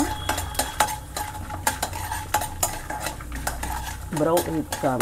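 Urad dal frying in oil over a medium flame in a South Indian kitchen for raw mango chitranna, with a spoon scraping and stirring the pan in repeated clinks over a low steady sizzle, close and fairly loud, no talking.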